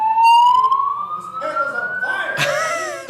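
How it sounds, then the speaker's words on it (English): A fire alarm goes off in a conference room at a writers' convention in Las Vegas: a loud, steady electronic tone that slowly rises in pitch, with people talking over it near the end. "Fire alarm?"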